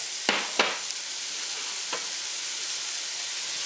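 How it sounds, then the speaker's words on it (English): Onion and red peppers sauteing in olive oil in a pan, a steady close sizzle with a few sharp knocks of a utensil stirring early on and another soft knock later. "I want to start sauteing the vegetables."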